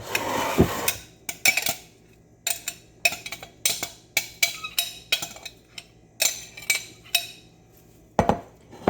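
A utensil scrapes and clinks against a bowl while vegan fried rice ingredients are mixed, a series of sharp knocks and taps in an irregular rhythm, close and fairly loud, with no talking.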